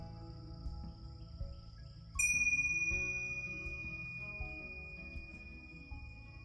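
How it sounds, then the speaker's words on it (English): A meditation bell is struck once, giving a bright, sustained ring that slowly decays over several seconds above a faint, quiet background. "Wait for the bell."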